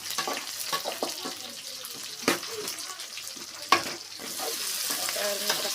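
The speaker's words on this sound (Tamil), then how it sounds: "இது நல்லா தக்காளி வதங்கி வரட்டும்" Tomatoes frying in a pan for puli rasam give a steady close sizzle, with a few sharp stirring clatters over the hiss and soft speech in the background.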